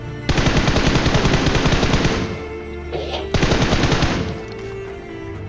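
Rapid automatic gunfire in the BGMI mobile battle royale game, a loud sustained burst of fire that breaks off briefly near the middle and then resumes for a second long run of shots.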